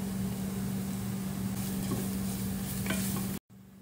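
Chopped onions fry in a pan with black pepper, cumin and ginger, a steady sizzle under a low hum with occasional scraping stirs, then a brief cut at the end.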